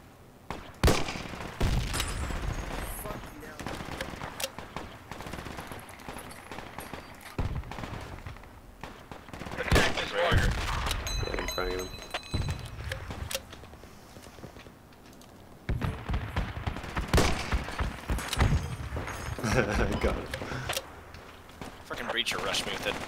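Gunfire in the tactical shooter Project Reality, including shotgun blasts: irregular sharp bangs and bursts, some close and loud, others more distant, amid background game noise.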